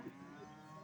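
Cows in the cattle rows of the Qumtepa livestock market low faintly and at a distance, a soft, steady lowing that runs through the whole short moment with no talk.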